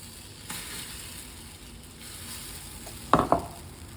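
Raagi roti sizzles on a hot, heavy-bottomed cast iron pan, a soft steady fry that flares into two brief, louder hissing bursts near the end, with no one talking.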